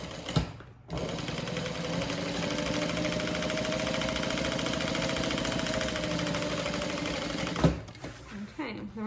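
A sewing machine top-stitches a folded handbag seam in one continuous run of fast, even mechanical whirring close by, starting and stopping with brief handling clicks.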